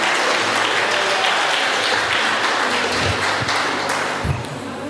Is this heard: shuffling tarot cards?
no